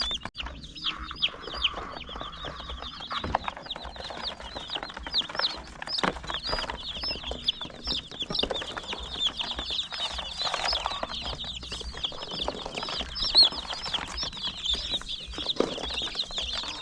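Broiler chicks cheeping in a poultry house, a constant chorus of many high, rapid peeps close by, with occasional soft clucks, rustling and faint thumps underneath.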